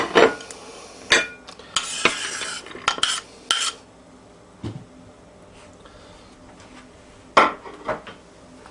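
Onion pieces broken up and moved onto a plate while preparing a Chicago Italian beef sandwich, heard as a few sharp clinks and scrapes of utensils and board against dishware, spaced irregularly with quiet gaps between.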